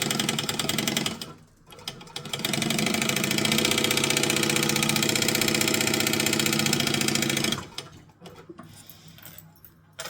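A sewing machine stitches straight quilting lines along a guide, running steadily with a fast mechanical whirr for about five seconds after a brief start and pause, then stopping into quieter handling noises.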